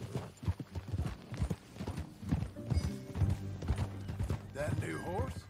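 Horse hooves clip-clop in a steady riding rhythm in the video game Red Dead Redemption II, with voices talking over the hoofbeats and a brief whinny near the end.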